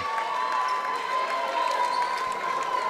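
High school basketball crowd at a sectional game cheering for the Elkhart Christian team, a steady wash of applause and cheers from the stands, fairly loud and continuous.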